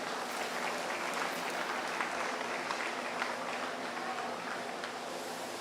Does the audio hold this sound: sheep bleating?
no